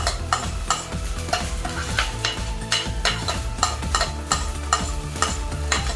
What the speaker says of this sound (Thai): เราก็นำสตอลงไปใส่ค่ะไปผัดเลยนะคะ